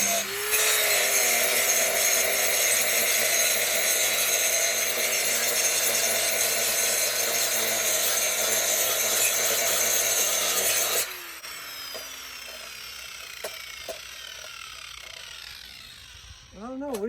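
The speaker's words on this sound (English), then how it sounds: "We'll buzz that with the grinder." An angle grinder grinds down welds on a broken metal shop stool, a loud continuous buzzing roar that runs for about eleven seconds and then cuts off, leaving quieter shop sounds and some talk.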